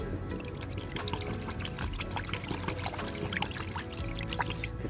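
Contact insecticide poured into water for a caterpillar spray mix, a continuous close trickle and splash with small drips scattered throughout, no talk.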